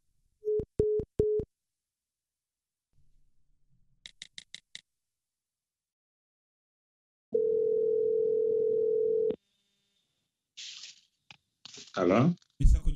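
After a dropped call on a radio phone interview, a steady telephone dial tone sounds for about two seconds alone, preceded by short tone beeps and clicks, with brief voices afterward.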